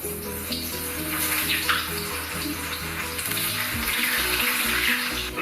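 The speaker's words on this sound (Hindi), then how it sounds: "अभी अरबी जो है फ्राई होनी शुरू हो गई है।" Taro root (arbi) frying in a pan, giving a continuous loud hiss and sizzle that holds steady throughout, with a low background hum.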